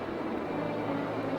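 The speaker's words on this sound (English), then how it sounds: "A plane." An airplane's engine drones overhead as a steady, broad, even rumble, heard alone without voices.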